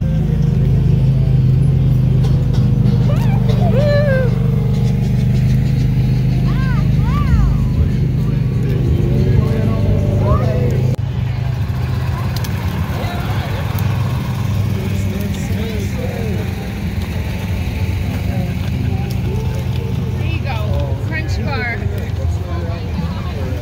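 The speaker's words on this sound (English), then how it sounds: "Hey, it's a smart car." A small smart car rolling past in a Christmas golf cart parade, its engine a low steady hum under crowd chatter and cheering voices, with a brief revving surge partway through.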